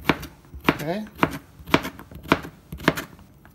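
Knife chopping through a cucumber-like vegetable, squash, on a cutting board while preparing a shrimp salad, six crisp evenly spaced chops close by, with a brief voice between strokes.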